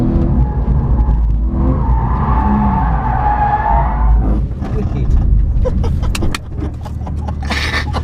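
A race car spins out on a track, its engine roaring loud and close as tires skid and squeal, with the engine settling near the end and a person talking over the noise.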